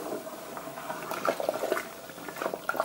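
Pear mash for moonshine being stirred in a barrel, a wet, sloshing liquid churn with small gurgles and splashes, moderately close and alone without talk.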